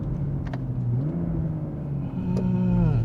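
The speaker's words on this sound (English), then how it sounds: "Listen, the downshifts." A BMW M340i engine drops through downshifts, its pitch stepping up with each change and rising revs, heard close from inside the cabin over a steady road rumble.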